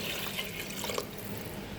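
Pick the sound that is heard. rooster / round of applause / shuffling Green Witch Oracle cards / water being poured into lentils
water being poured into lentils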